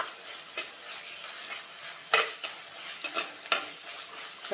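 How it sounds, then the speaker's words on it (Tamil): Ginger, garlic and onions sauté in a pan for a mushroom biryani, giving a soft continuous sizzle under repeated close stirring scrapes and light clinks of a spoon against metal. "நல்லா இஞ்சி பூண்டு நல்லா பொன்னிறமாக வெங்காயம் எல்லாம் சேர்ந்து வதங்கணும்"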